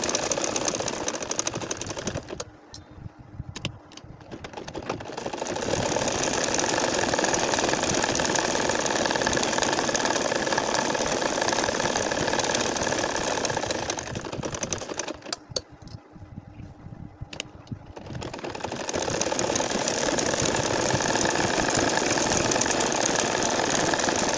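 An ordinary domestic sewing machine stitches a star-flower nakshi kantha quilt with a steady, loud mechanical whir that runs almost continuously at close range. It pauses briefly twice as the fabric is turned, and there is no talking.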